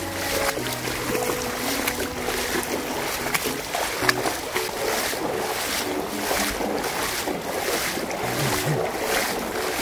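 A motor boat moving across murky floodwater, its engine a continuous rumbling drone beneath steady wind buffeting on the microphone, close and fairly loud throughout.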